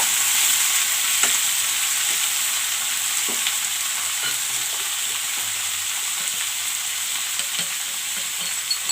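Chopped ivy gourd, carrot and potato sizzle and fry in a hot pan, a steady bright hiss with occasional soft stirring clicks and scrapes throughout.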